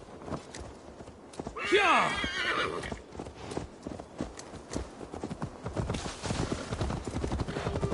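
Horse hooves clip-clop in a steady walking rhythm inside a Viking-era video game, with a loud whinny early on and a short shouted exclamation, all set over an ambient game soundscape.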